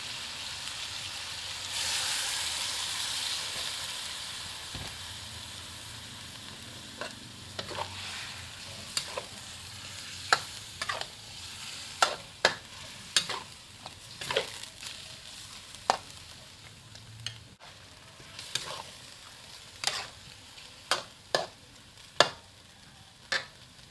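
Lemongrass chicken cooks down in a pan with the water used to rinse the mortar, giving a steady bubbling sizzle broken by frequent sharp ticks and scrapes from stirring that grow more regular toward the end.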